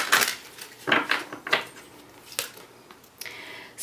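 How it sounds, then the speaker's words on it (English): Tarot cards being shuffled for a reading, a series of short, crisp papery bursts at uneven intervals, close and fairly quiet, with no talking. "One more shuffle."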